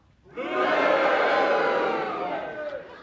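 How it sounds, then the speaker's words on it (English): A studio audience cheers together in agreement with a challenge, a swelling wall of voices that rises quickly, holds loud for a couple of seconds and then tapers off. "If you agree with Derek Nimmo's challenge, will you cheer?"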